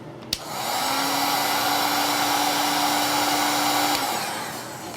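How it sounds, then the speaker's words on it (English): A heat shrink gun runs on heat shrink tubing, clicking on with a sharp snap and blowing a steady loud whirring hum with a faint tonal whine for about four seconds before switching off. "bring it over to the shrink gun."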